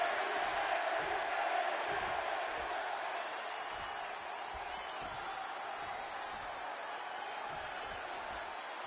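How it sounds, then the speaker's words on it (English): An arena crowd in Chicago roars steadily in the wrestling video game WWE 2K26, a broad sustained wash of cheering and noise, slightly louder at first, then holding at a moderate level throughout. "And just listen to this crowd here in Chicago."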